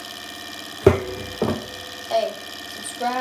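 A small Sonytech hot air Stirling engine runs with a steady, quiet mechanical whir and hum, close by, while someone talks briefly over it.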